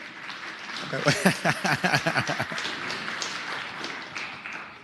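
Applause breaks out in the Virginia Senate chamber, a dense burst of many hands clapping in a large room that swells and then tapers. Talk runs alongside it.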